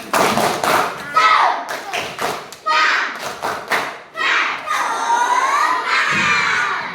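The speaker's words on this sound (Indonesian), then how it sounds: "kita kasih ini tepuk semangat dulu biar semangat terus" A group of children in a classroom do a rhythmic spirit clap, chanting and clapping in a pattern, loud and close, with shouted syllables between the claps.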